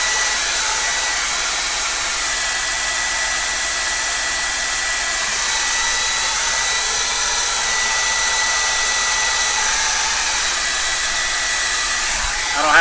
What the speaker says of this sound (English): look for the hairdryer to start